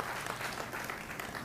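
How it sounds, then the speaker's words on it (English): Audience at an afterschool program event giving a brief, dense burst of applause, an even rush of many hands clapping together at moderate level. "give him a round of applause as well"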